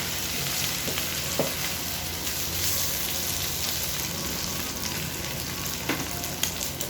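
Pork adobo frying in its own rendered fat, a steady dense sizzle and crackle that continues throughout, with a few soft stirring knocks and no voices.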